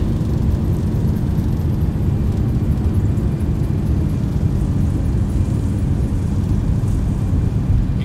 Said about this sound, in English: Right, reversers are out.